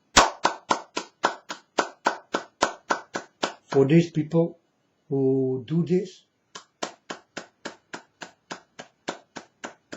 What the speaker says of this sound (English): I clap in my hands because it's a very, very difficult thing to do